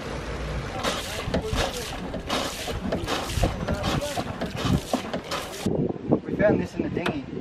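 A manual bilge pump pumps rainwater out of a dinghy in repeated rhythmic whooshing strokes, close and fairly loud, roughly two per second, before slowing into scattered splashes and gurgles.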